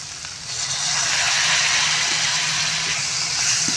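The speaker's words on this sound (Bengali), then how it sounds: "মশলাটাকে ভালো করে কষিয়ে নেব" Spice paste with chilli powder and a splash of water frying in a pan for a murrel fish curry, a steady close hiss and sizzle that swells after the first half second and holds.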